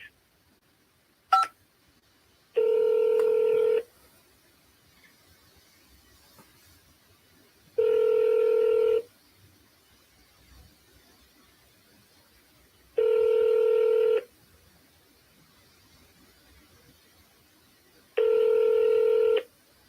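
Touch-tone keypad tones dialing into an automated phone menu, four evenly spaced loud beeps, each about a second long, separated by quiet pauses, following a brief click near the start.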